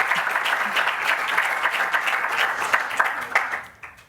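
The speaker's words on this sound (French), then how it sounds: "je voudrais qu'on l'applaudisse une deuxième fois" An audience at a talk on the mental side of team performance applauds after a presentation, with steady, dense clapping from a crowd that fades out toward the end.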